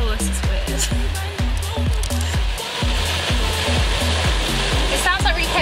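Inside a car going through an automatic car wash, water sprays hit the body in a dense, loud hiss like heavy rain, with pulsing bursts as the jets pass and people talking over it.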